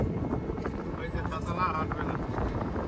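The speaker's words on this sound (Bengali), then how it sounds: "বিচের পাশে বেশ হাওয়া দিচ্ছে" Breeze blowing beside a beach at Mandarmani during an open e-rickshaw ride, a soft, steady rush with light microphone buffeting and faint road rumble, under people talking nearby.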